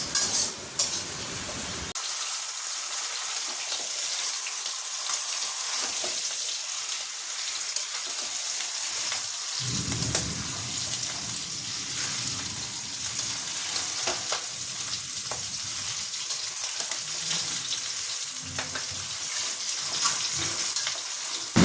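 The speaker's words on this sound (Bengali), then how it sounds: "তুমুল বৃষ্টি, যাকে মুষলধারায় বলে, চতুর্দিকে মনে হয় জল জমে গেল" Heavy rain pours down in a dense, steady roar of hiss and splashing that never lets up, with no voices.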